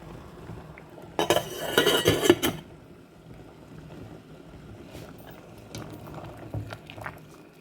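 A metal lid clatters onto a pot of drumstick curry in a short burst of rattling and scraping, followed by quieter kitchen clinks and a few faint knocks.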